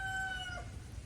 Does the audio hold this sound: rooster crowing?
yes